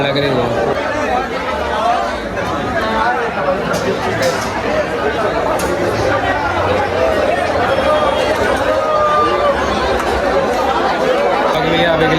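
A packed crowd at a street Holika Dahan bonfire in Pratapgarh keeps up a continuous loud babble of overlapping voices, close and steady, with occasional sharper shouts rising above the din.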